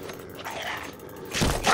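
A dog barks in the game Fallout: New Vegas, a few short barks and yips up close, the loudest bursts coming near the end.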